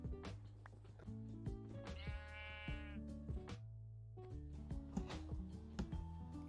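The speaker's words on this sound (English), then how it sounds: "Oh my god, there's so many sheep over here." Sheep in Minecraft bleating several times in short wavering calls, fairly close and clear, mixed with soft game sounds and little talk.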